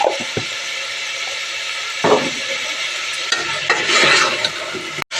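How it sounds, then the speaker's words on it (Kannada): Vegetables fry and get stirred in a pan with a pinch of turmeric, a steady sizzle broken by a few scraping stirs and utensil knocks, close and continuous with no talking. "ಈ ತರಕಾರಿನ ಡೈರೆಕ್ಟು ಫ್ರೈಗೆ ಹಾಕ್ತಾ ಇದ್ದೀನಿ"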